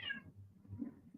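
A cat gives a short, soft meow, faint and close, in a quiet indoor room.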